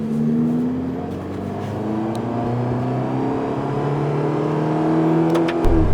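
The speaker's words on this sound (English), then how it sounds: "This is still a V8 twin turbo." A powerful twin-turbo V8 Ferrari Roma engine hums and revs steadily with rising and falling tone, close by, ending in a sudden deeper burst.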